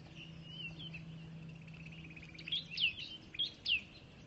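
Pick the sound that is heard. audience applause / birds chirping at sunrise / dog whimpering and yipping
birds chirping at sunrise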